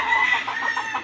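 Backyard chickens clucking during feeding, a run of short, rhythmic clucks close by with a brief higher call at the start.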